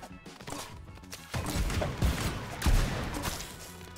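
Video game Gang Beasts gunshots land as several loud, thudding bursts in quick succession, close and booming over a continuous backdrop of game noise.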